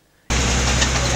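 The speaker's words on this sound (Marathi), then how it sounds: "एस टी बसेसच्या इंजिनाचा कर्णकर्कश आवाज" Old, worn state transport (ST) bus with loose, rattling parts; its engine cuts in abruptly after a brief quiet moment, then runs as a loud, steady, rough drone up close.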